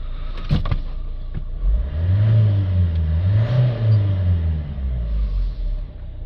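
A Renault Trafic van's diesel engine runs at idle, a steady low rumble that swells briefly partway through, close and alone after a couple of short knocks at the start.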